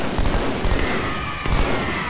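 Rapid SMG gunfire from the Halo 2 Anniversary shooter, a dense, loud burst of automatic shots mixed with in-game battle noise that fills the whole two seconds.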